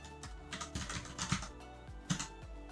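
Keys tapped on a computer keyboard while a command is entered at a Raspberry Pi terminal, a few quick irregular clicks and clacks, close and fairly quiet, with no speech.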